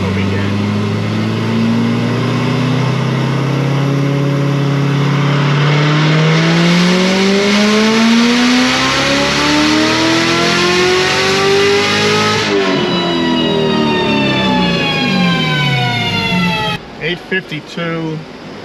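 A supercharged LT4 V8 with a 2650 blower runs a full-throttle pull on a dyno. The loud, sustained engine note climbs steadily in pitch for about twelve seconds, then drops sharply and falls off to a sputtering finish.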